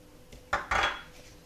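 Salt and sugar being stirred together in a bowl while preparing dough for a Moroccan galette: two close, bright clinks of utensil against bowl with a faint scrape between them, no talking.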